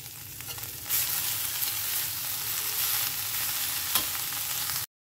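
Punarnava greens frying in a wok, with seeds from a jackfruit in the same dish, make a loud, steady sizzle that grows stronger after the first second and runs without a break until it cuts off, with one brief clatter near the end.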